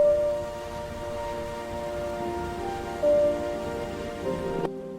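Rain in a cozy animated scene falls as a steady, even patter with soft tonal music over it, cutting off abruptly near the end.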